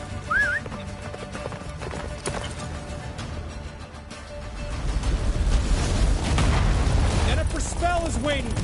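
Roach the horse gallops in The Witcher 3, a steady clip-clop of hooves building to a heavy pounding rush under swelling music and battle noise, with occasional voices and a whinny.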